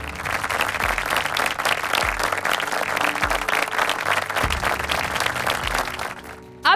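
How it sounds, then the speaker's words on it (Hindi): Enthusiastic audience applause welcoming a father and daughter quiz team from Nandanagar parish, Indore, Madhya Pradesh at the National Family Bible Quiz 2023, sustained dense clapping from a large crowd that fades out near the end. "तो जोरदार तालियों से"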